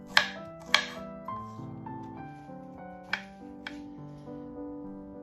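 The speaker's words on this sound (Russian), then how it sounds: "беру один средний кабачок и нарезаю небольшими кубиками" Knife strikes on a cutting board as a medium zucchini is diced into small cubes: a handful of sharp close chops, separated by gaps, over soft background music.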